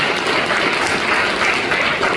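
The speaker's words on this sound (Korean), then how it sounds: "박수로 하나님께 영광드립니다" A church congregation applauds at a dedication thanksgiving service, with dense, steady clapping that fills the whole stretch without a break, loud and close, and no talk over it.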